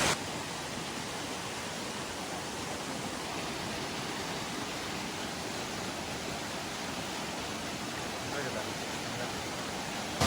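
A waterfall stream flowing over rocks in Palakkad gives a steady, dense rush of water, even and continuous throughout, fairly close, with no other sounds standing out.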